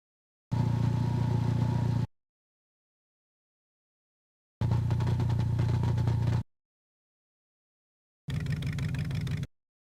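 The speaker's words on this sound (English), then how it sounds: "that sounds like a Harley motorcycle" A Harley-style motorcycle engine in a video game plays in three separate bursts with silence between them, a low, steady, rumbling drone held for one to two seconds each time.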